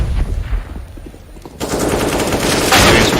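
Rapid automatic gunfire bursts from Counter-Strike on the Inferno map, loud and close, with a denser, louder volley after a brief lull.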